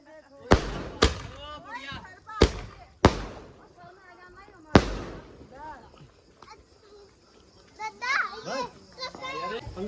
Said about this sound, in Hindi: 15 शॉट था और ये 3 ही बार बजा।